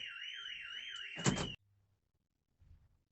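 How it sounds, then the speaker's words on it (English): A Mercedes-Benz Vito van's security alarm wails with a rapidly warbling electronic siren, loud and steady, then cuts off abruptly, leaving near silence. "So if I move around, there you go, alarm is triggering"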